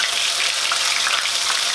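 Ground onion paste frying in hot oil with cumin in a kadhai, giving a loud, steady, close sizzle throughout with no talking.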